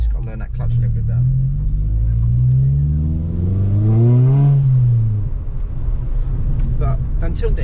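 A Ford Fiesta ST150 driving and accelerating, its engine note sweeping upward in a smooth rev before settling, with someone talking over the rumble.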